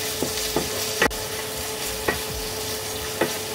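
Chicken breast sizzling in a pan while a utensil stirs it, with a few sharp scrapes at intervals over a steady frying hiss.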